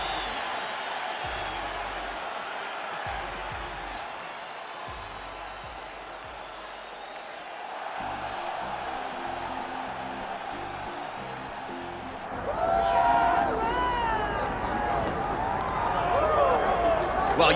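Arena crowd in the UFC 5 video game cheering steadily before a Michael Chandler bout, a continuous roar that rises noticeably louder toward the end while an announcer talks over it.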